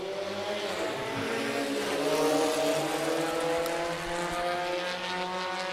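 Formula First race cars pull away together at the start of a one-hour race, a layered engine roar with rising revs that swells and then fades slightly as the pack moves off.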